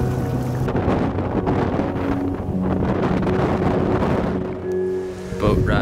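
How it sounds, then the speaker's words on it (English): Strong cold wind on a hiking trail in Sweden along the Kungsleden, a loud continuous roar buffeting the microphone throughout, with low tonal hums underneath. "It's so windy and so cold."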